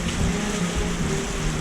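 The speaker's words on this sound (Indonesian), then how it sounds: "Hujan sudah turun cukup deras." Heavy rain falls on Mount Merbabu during a rainy-season hike, a loud, dense, steady hiss and patter that fills the whole stretch with no voices.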